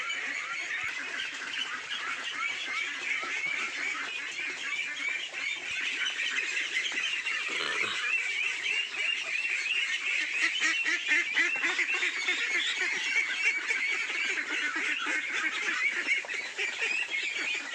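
A flock of about fifty farm ducks pours out of an opened gate toward nearby water, quacking and squawking continuously in a dense, loud, overlapping chorus close by, with no talk.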